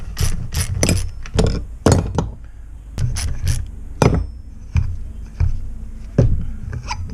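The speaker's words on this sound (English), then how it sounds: "If it doesn't, use a strap wrench and it should loosen right up." A strap wrench works loose the fork cap on a Honda CRF150R front suspension, giving a close series of sharp mechanical clacks and knocks in uneven bursts, with no talking.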